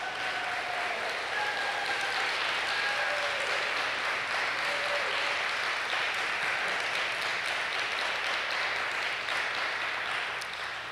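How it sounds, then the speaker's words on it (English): Sustained audience applause at a whistleblower event, a dense, continuous wash of many hands clapping at steady volume for the whole stretch, with faint whistles or voices threaded through it. "Feel free to applaud."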